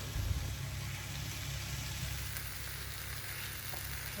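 Chopped tomatoes cook in a pan with a soft, continuous sizzle and a low steady background hum, with no one talking.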